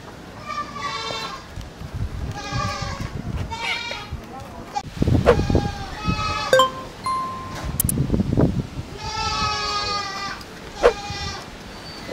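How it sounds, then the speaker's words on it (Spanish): A dairy goat offered for sale on a farm in Chalchuapa, El Salvador bleats several times close by, the wavering calls coming in bursts amid rustling and handling noise. "Esta es la siguiente cabra, amigos, que está a disposición por ahí para que puedan comprarla"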